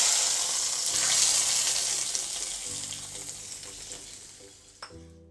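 Mustard seeds and curry leaves fried in hot coconut oil are poured into a Kerala sardine curry with buttermilk, sizzling loudly at first, then fading into a softer bubbling hiss with a final sharp crackle.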